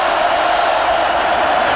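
A packed stadium crowd roars at a 2005 Florida Gators versus FSU Seminoles college football game, a steady, loud wash of cheering and noise that never lets up.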